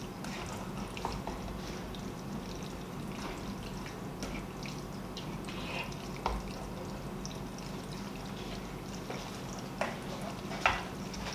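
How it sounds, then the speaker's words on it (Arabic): Sauce is stirred into cooked pasta in a pan, producing faint continuous wet stirring and a light sizzle, with a few small clicks of the utensil near the end. "نحرك هاي كمان شوي شوي، بنقلب الصوص بحيث يتغلغل داخل المعكرونة كلها"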